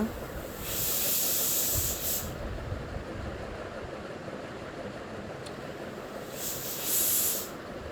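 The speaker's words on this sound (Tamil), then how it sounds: "நல்லா கொதிக்க விடுங்க" A pot of rasam boils steadily with a constant bubbling hiss, rising twice into louder steamy surges.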